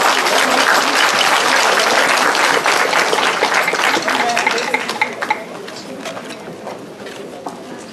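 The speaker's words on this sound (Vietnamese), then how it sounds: "Mời quý vị một tràng vỗ tay cho Lưu Bình và ban trống Lạc Việt." Audience applause for a drum troupe at a memorial monument inauguration ceremony in Montréal, a dense crowd clapping loudly for about five seconds before thinning and tapering off.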